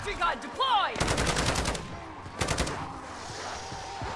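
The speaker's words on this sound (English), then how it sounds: "Sentry gun deployed!" Rapid bursts of automatic fire from a deployed sentry gun in the game Modern Warfare Zombies, two loud clusters of shots separated by a short pause, with game noises and brief chatter around them.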